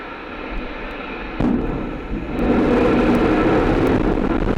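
Ariane 5 rocket Vulcain engine igniting at launch, a sudden onset of broad rumbling roar that steps up again and holds as a loud, continuous distant thunder.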